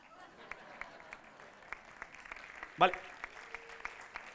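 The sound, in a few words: audience applause at a gala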